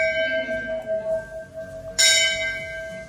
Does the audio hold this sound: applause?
no